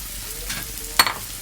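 Tomato and green chili paste sizzles and fries in a pan for egg malai masala, with a soft stirring rasp and one sharp utensil scrape near the end.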